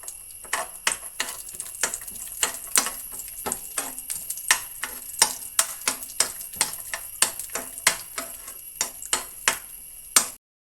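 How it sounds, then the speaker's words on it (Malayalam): Washed raisins frying in hot ghee in a pan alongside cashews: a long, steady run of sharp, close popping crackles at a fairly regular rhythm, with no talking, before stopping abruptly. "മുന്തിരി കഴുകി ഊറ്റി വെച്ചതിൽ ചെറുതായിട്ട് വെള്ളമുള്ളത് കൊണ്ടാണ് അതിങ്ങനെ പൊട്ടിപ്പൊരിച്ചിൽ"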